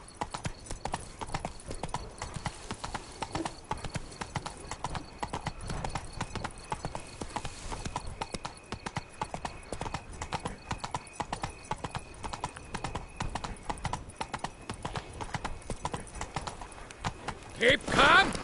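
Geralt's horse Roach gallops in Witcher 3, hooves clattering in a fast steady rhythm throughout, close and loud, with a brief burst of other game sound near the end.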